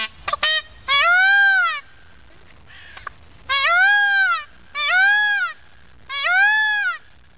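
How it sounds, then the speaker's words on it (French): Loud, nasal wailing calls from a peacock, repeated four times with pauses between them, plus a few brief honks at the start. "Le paon braille."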